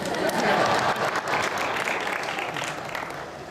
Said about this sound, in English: Right, you can also clap, why not?